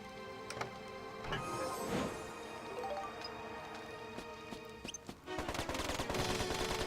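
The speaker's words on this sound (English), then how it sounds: "we'll see what his machine gun does down here" Max's machine gun in Dark Cloud 2 rattles off rapid bursts: scattered shots early on, then a sustained dense stream of fire over the last seconds alongside other game sounds.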